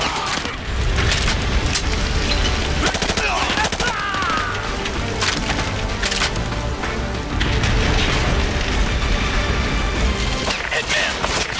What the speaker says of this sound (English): Suppressing fire.